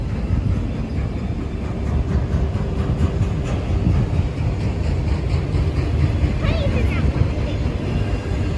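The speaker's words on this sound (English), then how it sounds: "Train cars. Train cars," Freight train auto rack cars rumble steadily past with a low, continuous roll and occasional squeaks and clanks, moderately close, with voices talking over it.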